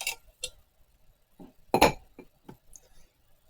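Ice cubes dropped into a rocks glass give a handful of bright, close clinks and knocks spaced irregularly, with quiet gaps between them.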